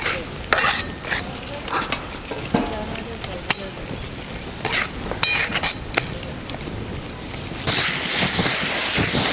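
Tomato and masala roasting in a pan for a village-style Maharashtrian fish curry, with steady sizzling and frying hiss broken by repeated scrapes and clinks of a spatula stirring against the pan, up close; the sizzle swells louder near the end.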